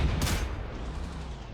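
Artillery fire in the wartime strategy game Panzer Corps 2: a single loud boom with a bright burst at the start, then a long rumbling decay that fills the rest of the moment.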